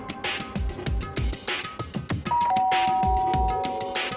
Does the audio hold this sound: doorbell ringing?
yes